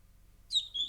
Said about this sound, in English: she brought us some little turkey chicks